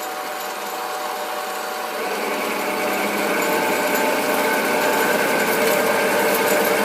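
A SIEG 7x14 mini lathe turning at about 600 RPM while cutting on power feed makes a steady high mechanical whine and hiss. It grows slightly louder and denser partway through, and nobody speaks over it.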